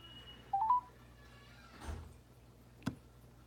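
A phone dialing, a quick run of short rising tones near the start, followed by a soft whoosh and a single sharp click, all faint.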